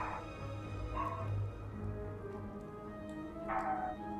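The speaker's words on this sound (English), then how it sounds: "Oh, dogs!" Dogs in a room letting out a few short woofs and yips, spaced irregularly over a few seconds, fairly close but not loud, with no one talking over them.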